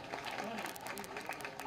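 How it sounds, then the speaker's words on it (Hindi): A crowd at a welcoming ceremony in Ayodhya, with the chief minister present, claps loudly and continuously, a dense, even wash of applause with a faint voice underneath. "एक बार जोरदार तालियों के साथ स्वागत"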